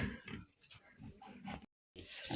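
Low, close pig grunts and snuffles come in short bursts, broken by a brief silent gap before more snorting resumes.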